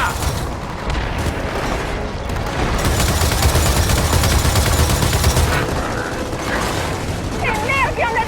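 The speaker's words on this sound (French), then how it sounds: "que quelqu'un prenne cette tourelle et m'arrose tout ça!" A machine-gun turret in Gears of War 4 hammers out sustained rapid fire over booming explosions and loud battle noise, while voices shout over the din.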